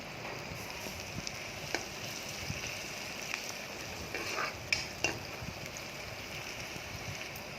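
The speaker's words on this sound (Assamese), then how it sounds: "ল' ফ্লেমতে ভাজিব পিঁয়াজখিনি" Onions fry gently over a low flame for Assamese mixed dal, giving a soft continuous sizzle broken by a few sharp clinks and scrapes of a spoon stirring in the pan.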